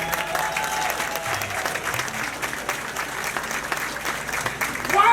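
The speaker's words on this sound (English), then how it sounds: "Please stand and give her a big round of applause." A standing audience at a history commemoration event gives a guest dense, sustained applause. Loud, continuous clapping fills the room, with faint crowd murmur underneath.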